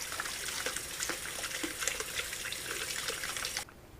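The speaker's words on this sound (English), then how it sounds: "So let's rinse this thing off and try it out." Tap water runs steadily into a sink and splashes over a repaired glass Bodum Brazil French press as it is rinsed. The flow is soft and continuous, then cuts off sharply near the end. No one talks.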